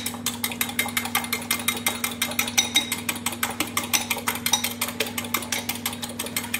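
Eggs beaten by hand with a fork in a bowl for an omelette, giving a fast, steady run of light clattering taps against the bowl, close and continuous, over a low kitchen hum.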